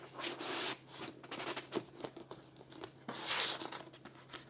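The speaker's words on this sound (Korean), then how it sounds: "돌돌 말아서 이렇게 긴 비닐에 넣어드린 겁니다" A rolled print being slid into a long plastic bag while packing an order, giving repeated crinkling and rustling of plastic in bursts, close and moderately loud, with no talking.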